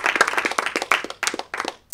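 An audience applauds at a music show, a burst of dense, lively clapping close by that fades out near the end.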